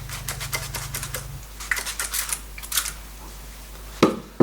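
Rapid bursts of spray hiss in quick succession over a watercolour painting, then a pause, followed by a few more short sprays nearby.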